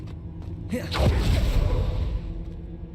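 An Incendio fire spell cast in Hogwarts Legacy bursts out as a loud whooshing roar that flares suddenly and then fades over a couple of seconds.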